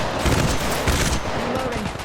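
Rapid video-game gunfire rattles in dense, loud bursts of automatic shots, close and continuous with no talk over it.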